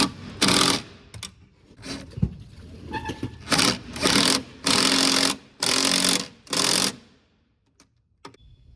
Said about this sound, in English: I'll use the impact to snug up the top bolts.